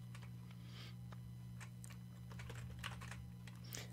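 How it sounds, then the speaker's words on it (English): Fingers tap on a computer keyboard in quick, uneven bursts of soft clicks, faint and close against a steady low electrical hum. "So you can come down into your search bar and just start typing Add Features."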